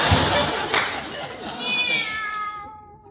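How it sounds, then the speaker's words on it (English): A cat meows in an old-time radio comedy, a drawn-out, wavering cry arriving near the end after a stretch of busy studio sound and voices. "There's a good kitty."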